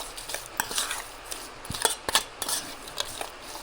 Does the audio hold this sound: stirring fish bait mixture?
yes